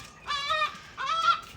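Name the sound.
seagulls calling on a cold morning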